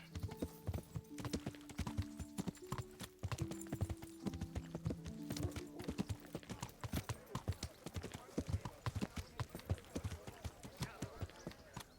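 Horse hooves clip-clopping in a steady trot in the Kingdom Come Deliverance video game, crisp and close throughout, with someone talking over it at the start.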